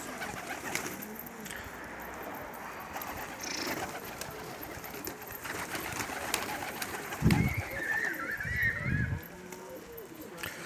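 Pigeons coo and rustle nearby in a loft, with low throaty calls over a busy background of bird noise; no one speaks.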